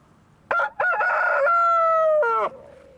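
A rooster crows loudly and close by on a farm, giving a single long, drawn-out cock-a-doodle-doo with a few sharp opening notes, against quiet surroundings.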